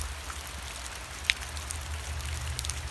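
Rain falls steadily with a soft patter of drops and scattered brief ticks on a surface, a constant moderate hiss under a low background hum.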